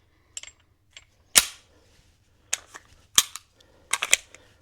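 Firearm shots at an indoor shooting range, several sharp, fairly loud cracks spaced irregularly, some in quick pairs, with quiet between them.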